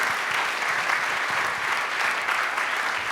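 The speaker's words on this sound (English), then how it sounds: "if we give them a round of applause, we just really appreciate all of our speakers being here today" A room full of people at a chamber of commerce community gathering gives a steady, continuous round of applause for the speakers, even and sustained throughout with no voices over it.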